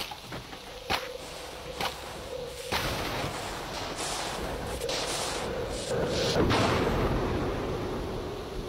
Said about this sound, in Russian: Это фуфлыжная какая-то граната, она даже тушканов не берет.